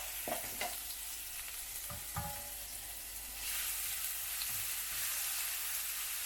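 Crushed ginger and garlic sizzle in hot oil with fennel seeds, a steady close frying hiss with a few stirring scrapes, growing a little louder partway through.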